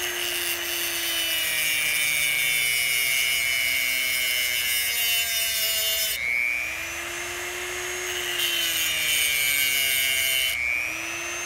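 A power tool whines at high speed while cutting notches into .50 caliber bullets, a loud continuous grinding tone that dips in pitch under load and rises again, close and sustained.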